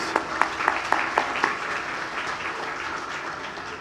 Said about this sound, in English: And so a round of applause for you.